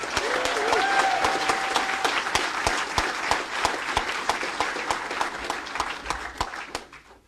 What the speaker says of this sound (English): please join me in giving a warm and rowdy applause to Delegate Wendell